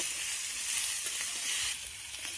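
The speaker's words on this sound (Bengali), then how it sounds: "দিয়ে আবারও নেড়ে চেড়ে আমি সব কিছু ভেজে নেব।" Tomatoes fry with salt in a pan and give a steady, bright sizzle close by, broken by faint stirring scrapes. The sound is moderately quiet and no one speaks over it.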